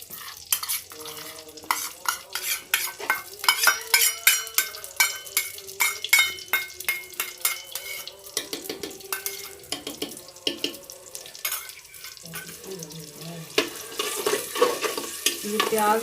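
Onions browning in a pan for an aloo baingan curry, with quick repeated stirring scrapes and clicks over a soft sizzle, loud and close throughout without speech.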